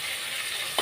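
Curry leaves and ground sambar onions (shallots) fry in a hot pan for a fish curry, giving a steady close sizzle with a brief stirring clatter at the very end.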